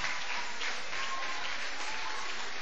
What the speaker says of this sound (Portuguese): Aplauda o Senhor, glorifique o nome dele